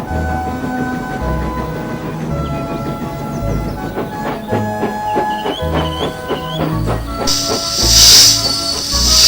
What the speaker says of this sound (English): disappeared in a cloud of steam